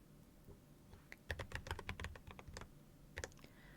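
Bursts of quick typing on a computer keyboard at a library desk, close and crisp, with clusters of clicking keys and short pauses between runs.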